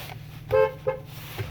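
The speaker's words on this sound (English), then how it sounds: "Horn works." A 2007 Chevrolet Silverado K1500 2LT horn gives one clear honk followed by a second, shorter tap, heard close up inside the cab of the pickup with nothing else sounding.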